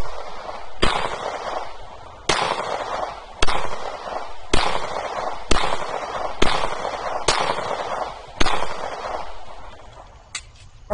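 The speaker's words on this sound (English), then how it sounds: "we're going to put 9 rounds of 40 cal through it" Nine .40 caliber pistol rounds are fired through a PowerFilm 7-watt rollable solar panel outdoors. The sharp, loud cracks come at a fairly even pace of roughly one per second, with no talking between them.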